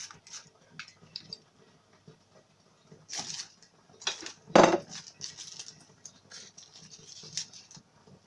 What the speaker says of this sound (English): Okay, let me grate it.